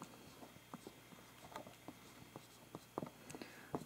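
Marker tip scratching out short strokes on the message board of a ZHPUAT multifunction LED alarm clock, quiet irregular taps and squeaks at close range with no talk.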